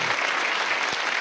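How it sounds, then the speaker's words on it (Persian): A studio audience at a comedy show claps steadily, a dense, even wash of applause from many hands held at a constant level for the whole brief moment. "سپاس از تشویقتون"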